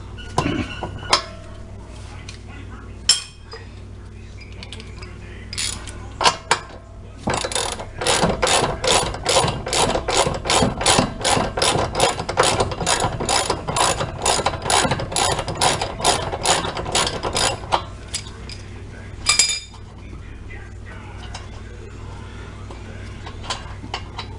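A ratchet loosens the upper control arm (wishbone) bolt on a 1997 Thunderbird: a few short clicks, then a long run of steady rapid pawl clicks lasting about ten seconds, close and clear, with a final couple of clicks.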